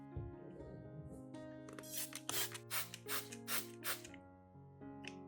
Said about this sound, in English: and you have a simple cockroach spray.